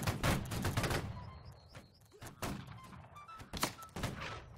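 Musket volley in Holdfast: Nations At War, a ragged burst of near-simultaneous shots rolling across the battlefield, followed by scattered single cracks and thuds near and far, with faint whistling tones drifting through.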